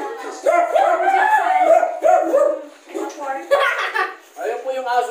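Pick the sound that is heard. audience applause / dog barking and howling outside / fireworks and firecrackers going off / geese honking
dog barking and howling outside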